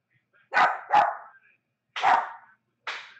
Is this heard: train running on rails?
no